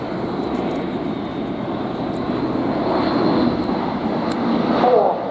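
A German Air Force Airbus A400M Atlas, with four turboprop engines, flies a tactical display at RIAT 2025, making a loud, sustained engine drone that swells slightly as the aircraft passes.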